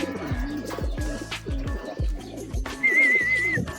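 Racing pigeon arriving at its loft after a race, with repeated close, rhythmic cooing calls and a brief flutter of wings, clear and near with no talk.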